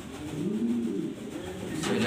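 A female pigeon, about to lay eggs, coos in a steady low rolling purr, close and continuous, with no talk.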